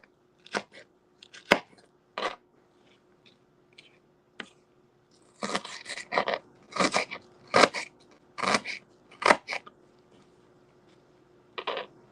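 A knife chops onions on a cutting board while salmon is being prepared. A few scattered cuts come first, then a quicker run of crisp, close chops in bursts, with no talking over them.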